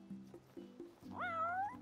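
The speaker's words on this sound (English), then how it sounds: "I can talk to the cat." A cat meows in the video game Final Fantasy XV, with a few short low chirps followed by one clear, drawn-out rising meow, close and fairly quiet.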